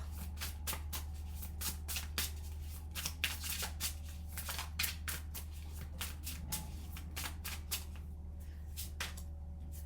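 Tarot cards are gathered and shuffled by hand, a rapid series of crisp papery riffles and slaps, close and fairly quiet, over a steady low electrical hum with no speech.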